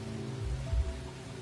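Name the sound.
rain falling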